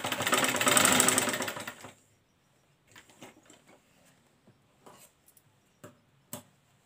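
Sewing machine stitching a raglan-sleeve baby frock, a loud steady run of rapid stitching for about two seconds that stops abruptly, followed by faint scattered clicks and handling noises.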